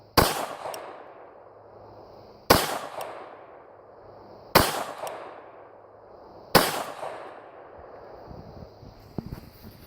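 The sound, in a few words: handgun shots at a shooting range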